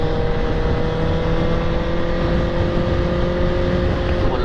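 Superbike engine at speed on a highway, a loud steady droning roar with constant tonal whine and wind rush, unbroken throughout, no speech heard.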